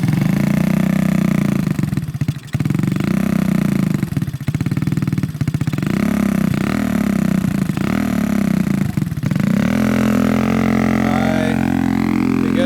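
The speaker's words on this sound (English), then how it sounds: "Ryan's gonna take the Ruckus out, ride it up and down the street." A Honda Ruckus scooter with a 171cc big bore kit rides along a street, its close engine droning loudly with repeated surges and brief dips as the throttle rises and falls.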